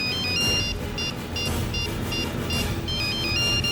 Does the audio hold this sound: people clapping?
no